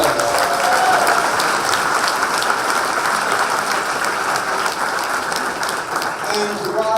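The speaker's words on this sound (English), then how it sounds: "Let's give them another round of applause." Steady, dense applause from a political rally crowd on Long Island, loud and close, carrying on for several seconds with some voices mixed in beneath the clapping.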